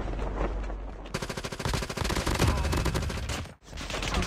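Rapid bursts of Fennec SMG gunfire in Call of Duty Mobile, loud, dense automatic fire that starts after a second, keeps up with a brief break near the end, then resumes.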